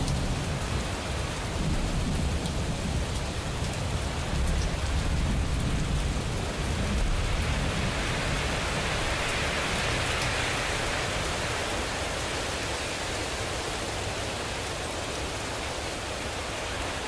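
Steady, loud rain pours down in a thunderstorm, with low rumbling thunder swelling and fading under the constant hiss of rainfall, continuous and enveloping with no voices.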